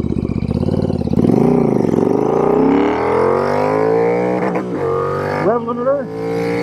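A Royal Enfield Interceptor motorcycle fitted with an S&S cam and Revelry Racing intake revs hard, its loud engine note sweeping up and down before climbing steadily and bouncing twice against the rev limiter near the end.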